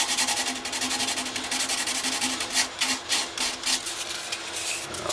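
Sandpaper rubbed over freshly hardened shellac on a handmade parlor guitar, a steady close-up rasping with quick back-and-forth strokes that continues throughout.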